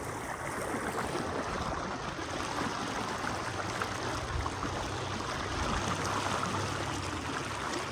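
Floodwater rushing at Taunsa during a flood: a steady, broad roar of fast-moving water, constant and fairly distant, with no voices over it.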